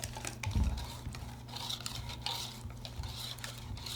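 Crêpe batter being whisked smooth in a bowl, a close run of quick scraping and tapping strokes against the sides, with a louder clank near the start and steady stirring after, no voices.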